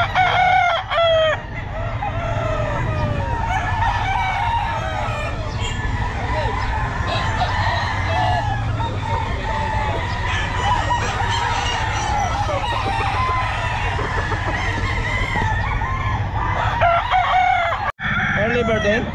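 Many chickens brought by new sellers at the Bocaue pet market, with roosters crowing loudly again and again over dense clucking for the whole stretch, and faint voices mixed in.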